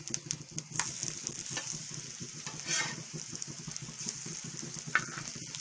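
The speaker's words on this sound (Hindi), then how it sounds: "अब हम इसकी दूसरी साइड फ्राई कर लेंगे।" Bottle gourd kebabs fry on a griddle over low heat, a steady close sizzle with small crackles and light scraping throughout, no talking.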